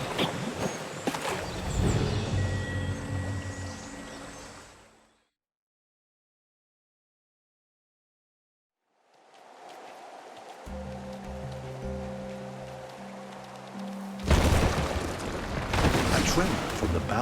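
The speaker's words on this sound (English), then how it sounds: "A tremor from the bowels of the earth sends rocks and streams of water pouring into the gulch." Rushing water and falling rocks pour into a gulch in the survival video game AWAY: The Survival Series, a loud continuous roar broken by a silent gap, then rising again with low rumbling under a narrating voice.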